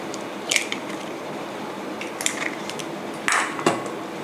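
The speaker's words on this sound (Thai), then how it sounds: "เริ่มจากตอกไข่เป็ดนะคะลงไป" Duck eggs are cracked into a bowl for Thai pumpkin custard filling, three sharp close shell taps and cracks spaced a second or so apart, with a faint wet drip after the last one, and no talking.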